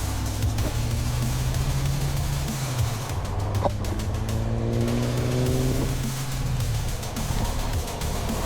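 A small but loud Mini Goat vehicle accelerates hard along a road, its engine droning steadily and climbing in pitch through repeated revving sweeps, close and continuous with no talking.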